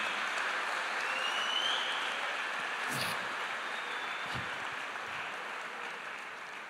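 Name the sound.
congregation applauding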